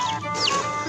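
Baby chicks chirp in high, thin peeps, close and fairly loud, a quick cluster of calls over a steady background hum.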